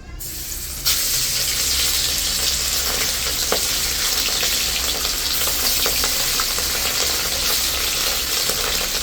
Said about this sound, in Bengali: এখন কড়াইতে তেল দিয়ে দিলাম। এখন মাছগুলি ভাজা বসাই দিই, কড়াইতে দিয়ে দিই।